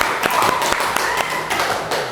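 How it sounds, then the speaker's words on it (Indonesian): Students in an Indonesian classroom applaud the best presentation group: a brief run of quick, fairly loud hand claps with an uneven rhythm, heard close by with no talking. "Oke, kasih tepuk tangan."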